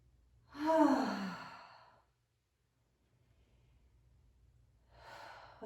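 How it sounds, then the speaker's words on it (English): Deep breath drawn in during a sweaty yoga strength flow, one long audible breath up close, followed after a pause by a second softer breath. "Big deep breath in."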